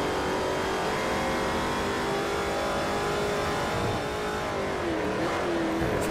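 A Ford Mustang race car engine in the video game Forza Motorsport 4 holds a loud, steady roar with a faint shift in pitch while slipstreaming close behind another car, with no talk over it.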